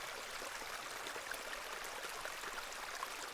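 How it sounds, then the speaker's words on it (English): A babbling beck in the video game The Excavation of Hob's Barrow gives a steady, even wash of running water with faint bubbling, heard alone throughout. "I do enjoy the charm of a babbling beck."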